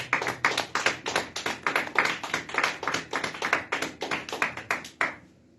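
A church congregation claps in a steady, rapid rhythm for several seconds and then stops abruptly, leaving near silence. The clapping is close and loud, and no voices are heard.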